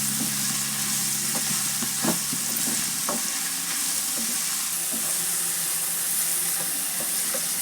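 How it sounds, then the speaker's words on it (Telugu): Cluster beans frying in a pan while being stirred with salt and coriander powder, a loud continuous sizzle with scattered scrapes and taps of the spoon, no talking. "1 స్పూన్ సాల్ట్, 1 స్పూన్ ధనియాల పౌడర్ వేసుకొని ఇలా కలుపుకోవాలి."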